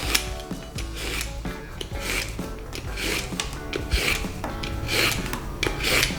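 Fresh luffa gourd is peeled for a vegan home-style dish, giving close, repeated rasping scrapes in quick irregular strokes with short pauses between passes.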